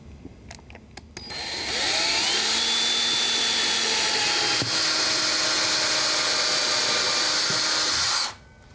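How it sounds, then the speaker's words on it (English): A power drill pre-drills holes into a wall stud for brass screws, spinning up after a few clicks into a loud, steady whine that holds for about six seconds and then cuts off. "It's always a good idea too to pre-drill your holes."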